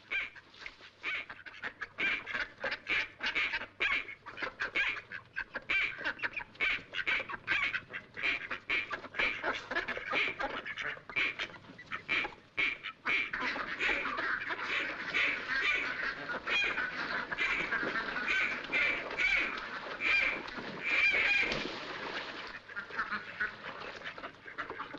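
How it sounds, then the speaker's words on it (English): Ducks quack in a scene from The Three Stooges short Restless Knights, a rapid, busy flock chattering nonstop for the whole stretch and swelling into a denser chorus toward the end. "Cut out that quacking."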